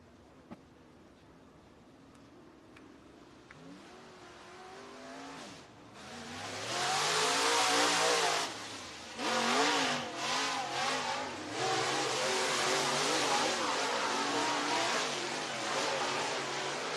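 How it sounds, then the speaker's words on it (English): Race car engines on a dirt track start at a moderate distance, then roar up loud and close, revving hard and sweeping past for several seconds. "Next two drivers rolling out on the racetrack"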